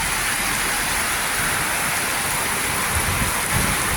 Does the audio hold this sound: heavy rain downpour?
yes